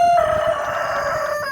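Big Red, a rooster kept with a flock of hens, lets out a single loud, close crow that holds a sustained, strained tone for well over a second.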